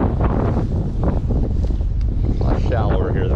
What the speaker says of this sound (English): Trying to get a little bit out of the wind.